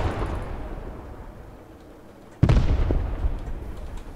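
A single heavy gunshot booms in the World War II video game Post Scriptum with an 88 mm FlaK 36 anti-tank gun, a sudden loud blast followed by a rumbling decay over steady background noise.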